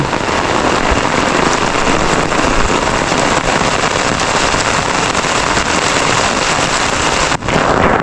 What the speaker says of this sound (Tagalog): Naabutan ako ng malakas na ulan.